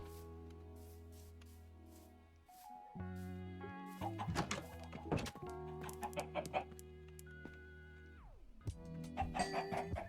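Chickens cluck on a farm in Minecraft, several short sampled clucks and blocky game sound effects layered over a background music track, moderately loud and without talk.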